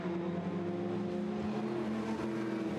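Historic Thundersports endurance race cars run on a wet, drying track on grooved wet tyres, their engines a steady, fairly faint drone from a distance.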